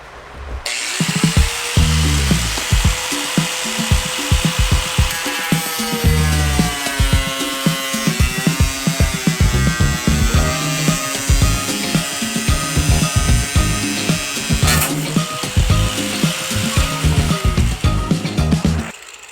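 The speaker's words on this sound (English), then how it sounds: "that metal cutting blade just literally just slices through that" A metal cutting blade on a power tool slices through a fiberglass fender for a Nissan 240SX Silvia, a loud continuous grinding whine that wavers in pitch for nearly twenty seconds, close and without speech.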